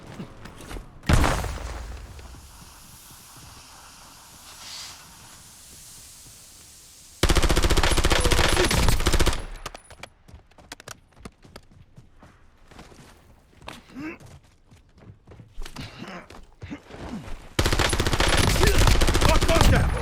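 Gunfire in the Warzone battle royale arrives in several loud bursts of automatic fire, separated by quieter stretches of scattered shots and movement, with the heaviest barrages near the start and the end.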